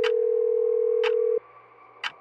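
A phone ringback tone during a late-night call to a spouse: one long, loud steady tone lasting over a second that stops abruptly, with faint ticking clicks and a quiet hum through the gaps.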